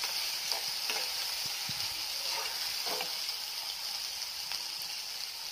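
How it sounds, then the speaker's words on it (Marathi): Onion and chopped tomato frying in a pan for a dry ridge gourd and bread vegetable dish, with a steady soft sizzle and occasional scraping of a spoon stirring through the mix. "हे छान मिक्स करून घेऊया।"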